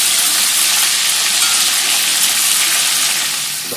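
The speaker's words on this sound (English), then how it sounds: "So the beef is still being fried in the oil." Pieces of South Indian beef kebab fry in hot oil over a low flame, a loud, close, continuous sizzle and crackle with no talk.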